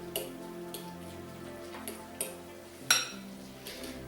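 Soft scraping and light clinks of a utensil against a bowl as Bermuda onion is mixed into a chicken wrap salad, a few sparse taps over quiet background music, faint and close.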